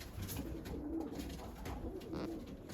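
Pigeons, Iraqi breeds, coo softly and steadily, several birds close by in an enclosed loft, with light rustling and a constant low background hum.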